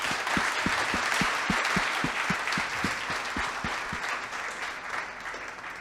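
A church congregation claps in strong unison, a dense wash of applause with a few sharp, close hand claps standing out in a rough rhythm, holding steady and fading slightly toward the end.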